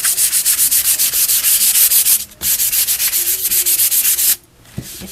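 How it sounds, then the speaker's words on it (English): Light hand sanding of dried, chalky caramel-coloured textured basecoat paint, a steady run of quick, rhythmic rubbing strokes close up, pausing twice briefly, with no talking. "as soon as you give it a little light sand"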